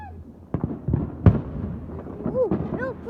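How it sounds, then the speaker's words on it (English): Loud fireworks explode in sharp booms and pops amid crackling, while excited voices talk and exclaim between the bursts. "The scary fireworks."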